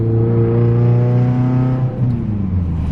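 A loud Mitsubishi Lancer Evolution VIII with a Tomei Expreme titanium exhaust revs up to a high pitch and holds there, then drops back down as the throttle eases off, close by.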